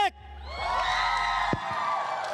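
A large crowd cheers and whoops at the MLBB M6 World Championship in Malaysia, a loud sustained roar of many voices that swells and holds for a couple of seconds.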